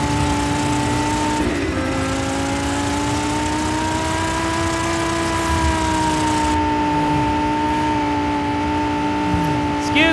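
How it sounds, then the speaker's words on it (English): A supercar engine screams at high revs while driving fast in the open-world action game Just Cause 4, a sustained droning whine with slight pitch shifts, loud and continuous, with a voice talking over it. "Man in a supercar coming through."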